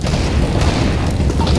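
A grenade detonates in a Counter-Strike style competitive shooter, a dense, loud low-end boom that rumbles continuously through the short moment with no speech over it.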